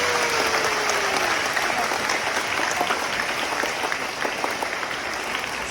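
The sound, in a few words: audience applause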